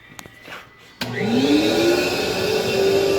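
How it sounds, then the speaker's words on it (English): A shop vac fitted snugly onto a pipe on a workbench switches on after a couple of clicks. Its motor spins up with a rising whine and then holds a loud, steady roar. "my shop vac just happens to fit snug right on it"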